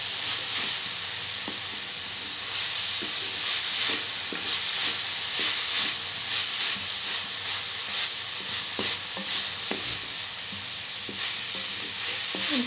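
Minced meat (keema) for samosas frying in a pan, with a steady loud sizzle and hiss while a spoon scrapes and stirs it in repeated light knocks, with no talking.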